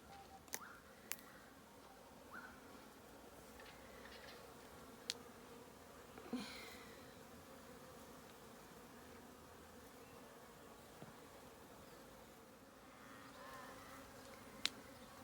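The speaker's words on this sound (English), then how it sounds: "it's really interesting just watching the bees" Honey bees buzz faintly and steadily in a continuous low hum. A few soft clicks and taps punctuate the drone.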